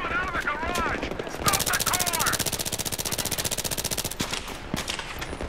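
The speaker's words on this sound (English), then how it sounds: "I'm just shooting these people." Rapid machine gun fire in the video game Battlefield 3, with long fast bursts of loud close shots and a few brief pauses, heard alongside a player talking.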